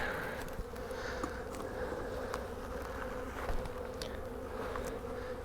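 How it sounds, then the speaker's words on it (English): Honeybees buzzing steadily around a hive during a winter survival check after a hard freeze, a close, continuous droning hum with no talk. "I'm going to shake these bees off back over here in behind the hive."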